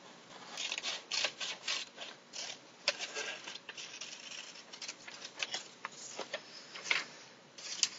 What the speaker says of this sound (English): Let's cut out the basic shape with scissors.